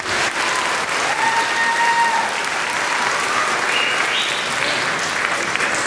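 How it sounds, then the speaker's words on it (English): An audience at a middle school spring band concert applauds, a dense, loud, steady wash of clapping that fills the whole stretch, with a few faint whoops and voices mixed in. "How about another applause for that one?"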